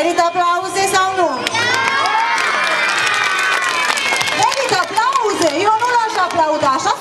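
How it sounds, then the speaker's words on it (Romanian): An audience with many children cheers, shouts and applauds at a live stage show, loud, lively and continuous, with voices rising and falling over the clapping. "Merită aplauze sau nu?"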